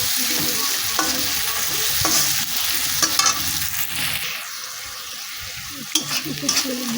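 Spices with chili powder stirred in a hot frying pan for an egg posto dish, a soft sizzle broken by scraping strokes and a few clacks of the spatula, with no voices.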